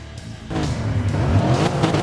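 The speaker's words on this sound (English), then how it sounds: "As they all sit ready to go, hit the rev limiters, and they're off" Several race cars in a racing video game sit on the grid at the race start, engines bouncing off their rev limiters in a loud, dense drone that swells as they launch away, with a hint of tyre squeal.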